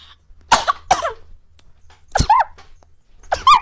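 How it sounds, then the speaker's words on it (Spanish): One person sneezes and coughs after eating blue potato chips, with sharp, loud bursts up close and brief gasps between them. "por estarme comiendo los las papas azules ya me dio ganas de estornudar"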